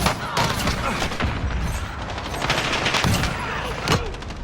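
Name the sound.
gunfire in video game Modern Warfare 2019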